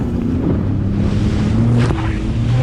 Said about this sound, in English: this is the wind and chop that I'm dealing with here